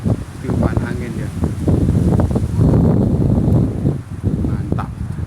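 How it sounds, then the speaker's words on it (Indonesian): Strong wind gusting across a steep mountain trail on Mount Lawu, buffeting the microphone in loud, uneven rushes and rustling, with a hiker's voice partly under it. "tiupan angin ya"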